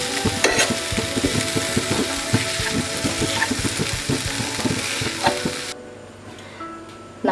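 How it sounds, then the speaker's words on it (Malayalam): Cooked tapioca being mashed with a ladle in a pan for egg kappa, a Kerala street-food dish: steady clattering scrapes and soft thumps over a faint sizzle, close and continuous with no talking. "ഞാൻ ഇപ്പോൾ ഇതുപോലെയുള്ള ഒരു തവി കൊണ്ട് നന്നായിട്ട് ഉടച്ചു കൊടുക്കുകയാണ്"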